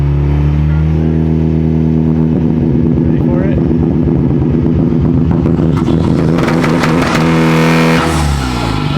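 A tuned, previously totaled Honda Civic Type R with anti-lag revs loudly up close, its engine climbing in pitch with crackling pops toward the end, while a person speaks briefly over it.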